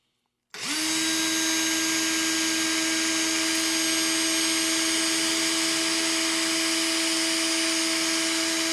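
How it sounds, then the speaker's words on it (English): A steady, loud, high-pitched whine starts abruptly and runs constantly as sandpaper works on a wooden pinewood derby car, like an electric sander grinding away without pause. "kind of move that sandpaper up and down"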